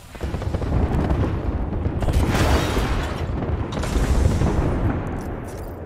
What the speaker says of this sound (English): Watch an airstrike.